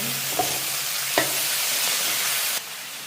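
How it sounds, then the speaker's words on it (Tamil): Chopped tomatoes sizzle steadily as they are sautéed in a hot pan, a close, even frying hiss broken by a couple of soft stirring scrapes, dropping slightly in level near the end, with no talking. "தக்காளி பழம் வதங்குது எல்லாம் வதங்கிட்டுது"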